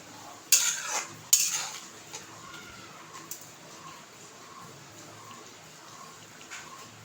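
Pointed gourd pieces stirred into a simmering mustard curry, two sharp metallic spoon knocks against the pot followed by a few softer scrapes over a quiet bubbling background.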